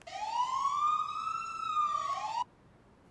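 A fire engine siren wails in long rising and falling sweeps, loud and clear, before cutting off abruptly, followed by a brief pause.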